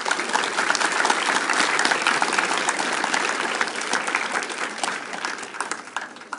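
Audience applause at a youth discussion event in Płock, with dense, continuous clapping from a sizeable crowd that holds steady before slowly thinning out.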